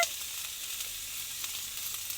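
Whole chilies sizzle steadily in hot oil in a wok, a continuous bright frying hiss with faint crackles, close and fairly quiet, with no voices.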